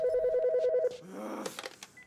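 Telephone ringing in the video game As Dusk Falls, a short electronic double-tone ring pattern lasting under a second, then cut off and followed by faint handling and rustling sounds.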